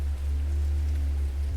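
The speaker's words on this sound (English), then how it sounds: "The rain continues softly beyond the windows" Soft, steady rain falls outside a window, a continuous even hiss with a low hum underneath and no distinct drops or voices.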